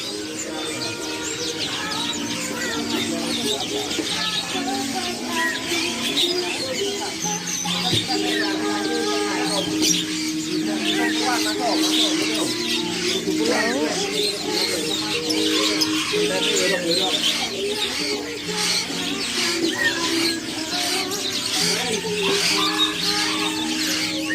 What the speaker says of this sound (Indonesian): Ini kenari ya